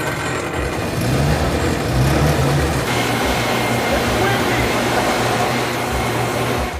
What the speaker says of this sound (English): All our 5 leaf blowers work.